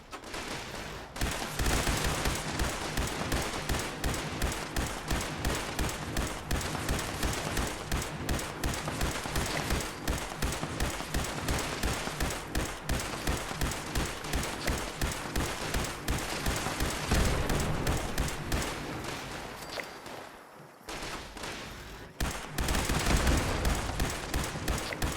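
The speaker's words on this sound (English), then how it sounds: "What are these guys firing at over here?" Dense, sustained gunfire from a firefight in the video game Fallout 76, rapid overlapping shots and bursts rolling almost continuously for the whole stretch, loud and close, with a brief dip near the end before firing resumes.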